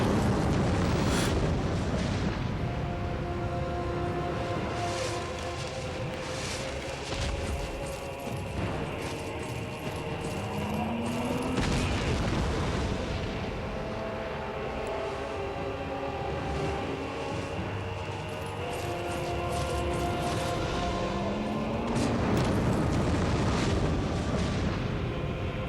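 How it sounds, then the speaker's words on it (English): A boss unleashing fire lasers in Dark Souls: sustained loud roaring blasts and rumbling booms fill the whole stretch, with brief rising tonal sweeps and crackling bursts layered through it. "oh, here comes the fire lasers"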